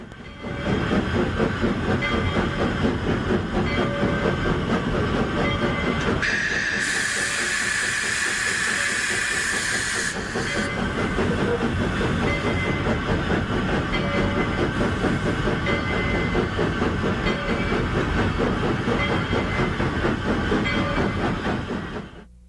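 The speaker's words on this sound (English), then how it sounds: "the train from Antonito and the train from Chama meet each other and stop for" A narrow-gauge steam train on the Cumbres & Toltec Scenic Railroad, stopping where two trains meet, rumbles with rhythmic clanking and a long loud hiss of escaping steam midway, heavy machinery noise continuing throughout without voices.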